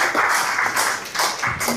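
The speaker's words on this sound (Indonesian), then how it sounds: "Thank you Mas Fajar, boleh tepuk tangan dong." A short burst of audience clapping at an indoor talk rises and falls in uneven waves, fairly close and loud, lasting under two seconds.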